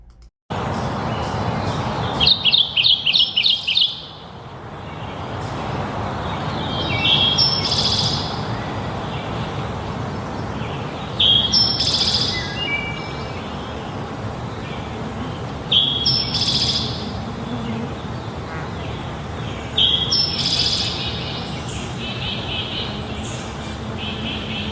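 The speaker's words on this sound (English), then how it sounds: "species such as Kentucky warblers tend to perch in one place and turn their head while singing their loud song" A Kentucky warbler repeats its loud, ringing song in bright phrases every few seconds. Each burst stands out clearly above a steady wash of background noise.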